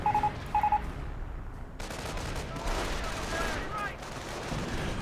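Gunfire in the video game Company of Heroes, with a few quick bursts and beeping tones at the start followed by a dense, moderately loud stretch of battle noise and clattering shots.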